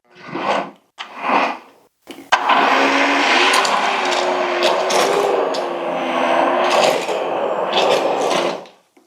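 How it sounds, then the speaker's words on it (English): Two short bursts of talk, then an immersion blender whirs steadily for several seconds, grinding and churning vegetable pastina soup up close before cutting off. "I'm putting the immersion blender on top of a vegetable, then pureeing it from there."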